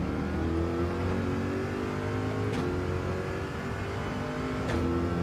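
A BMW M4 race car in Gran Turismo 7 drones with a steady, loud engine note held at high revs, with two brief gear-shift blips and no speech.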